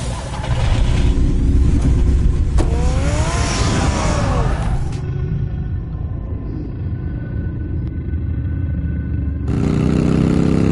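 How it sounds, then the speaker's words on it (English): A car engine from the Batman: The Telltale Series video game, loud and continuous, revving up with a rising whine and then cutting to a lower steady drone before swelling again. "Get the car ready, Alfred"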